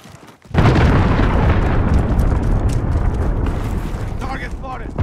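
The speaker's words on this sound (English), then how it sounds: "Allied cruise missile launched." A cruise missile strike in Call of Duty Modern Warfare erupts suddenly into a massive, loud explosion that rolls into a sustained roaring rumble for several seconds, with a voice faintly present underneath.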